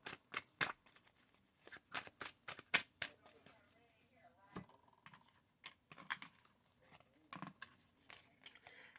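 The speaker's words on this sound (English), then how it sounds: "I heard it when I was shuffling the cards." Playing cards being shuffled in repeated quick riffling bursts, close and fairly faint, with short pauses between runs and no talking.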